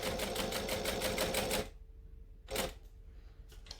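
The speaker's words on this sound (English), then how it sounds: "I'm going to stitch 1/8 of an inch. Now I'm going to go very, very slowly" A sewing machine stitching slowly, a close, rapid mechanical chatter for a second and a half, then near silence broken by a couple of short whirring bursts.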